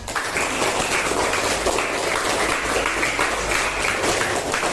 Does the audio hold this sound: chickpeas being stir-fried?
no